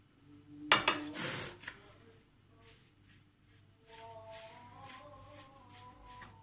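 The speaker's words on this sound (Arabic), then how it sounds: "الاول هنحط الزيت على الدقيق ونقلبه كويس" Flour mixed with oil being stirred in a bowl at home for fino bread dough, with a sharp clatter early on, then steady soft scraping and rubbing and faint background tones.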